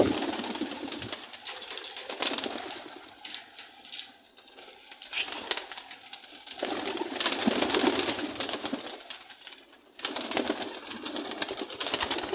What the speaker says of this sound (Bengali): কবুতরগুলো ছেড়ে দিন।